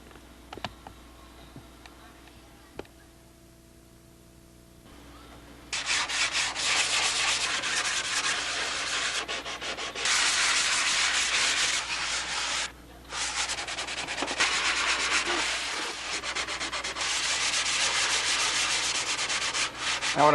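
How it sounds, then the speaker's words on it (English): Hand sanding of a Spitfire model airplane with sandpaper: after a quiet start, a loud continuous rasping scrub begins and runs steadily with a brief pause midway, close and alone. "I'm just touching it with the sandpaper."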